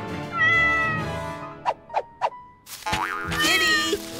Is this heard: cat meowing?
yes